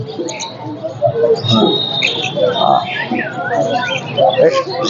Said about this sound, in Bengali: লরি টিয়া পাখি।